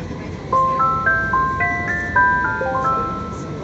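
A stepped electronic melody chimes as a Utsunomiya Light Rail HU300 tram departs, its tones rising and falling clearly over a steady low rumble of the running car.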